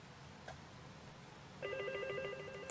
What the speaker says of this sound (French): Ah, j'entends le téléphone sonner